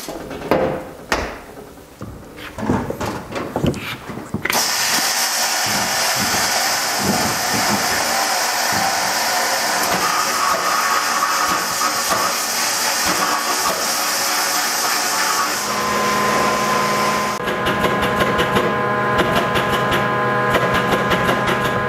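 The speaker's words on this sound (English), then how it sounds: "We're going to go into our vapor blast machine and see if we can get this one cleaned up" A vapor blast machine cleans a dirty Weber triple-barrel 40 IDTP carburetor body, first with a few knocks and clatters, then a steady loud hiss of blasting spray that runs on with a constant tone and brief shifts near the end.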